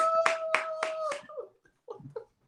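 A small group of people on a show set claps four sharp, evenly spaced times alongside a sustained whooping voice, then falls quiet except for a few brief murmured words.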